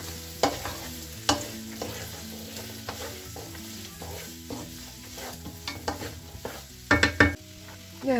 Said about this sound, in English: once you have the celery, onions, and the carrots in, you want to give them a nice stir